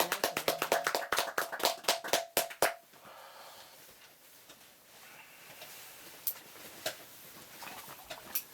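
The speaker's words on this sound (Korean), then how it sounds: "박수 한번 쳐드려." A small audience at a Heart Sutra lecture gives a short burst of brisk, rhythmic clapping, close and clear, which stops abruptly and leaves a quiet room with a few faint taps.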